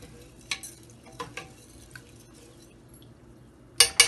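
A spoon stirs dal with garlic-ginger paste in a cooking pot, giving a few soft scraping clinks spaced out over a quiet background, with a brighter clatter at the end.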